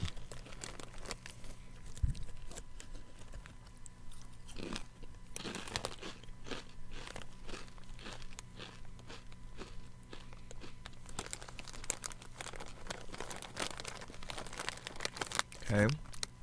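Crunchy food being eaten close to the mic, with irregular bites and chewing crunches repeating throughout and a louder crunch near the end, against a quiet background.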